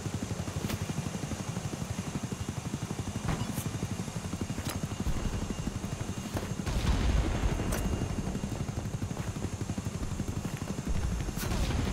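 A helicopter in Battlebit Remastered throbs with a steady, rapid rotor chop under continuous battle noise, with scattered sharp cracks of gunfire throughout.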